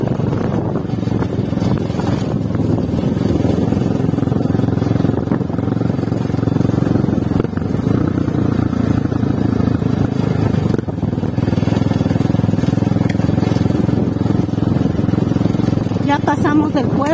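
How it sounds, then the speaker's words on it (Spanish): Motorcycles climbing a road toward the mountains, a steady loud engine drone mixed with strong wind buffeting on the microphone throughout, with occasional rattles and scrapes. "porque estamos yéndonos en las motos"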